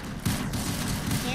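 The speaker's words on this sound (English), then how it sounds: "I'm shooting at my imaginary friend." Rapid bursts of gunfire from the Roblox game Arsenal crackle in quick succession, with voices talking throughout.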